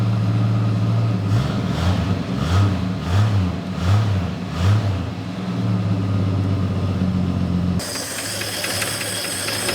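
An AMC Rebel engine, left abandoned for 35 years and showing condensation and soot, idles loudly up close and rises in four rhythmic revs before settling, then changes tone near the end.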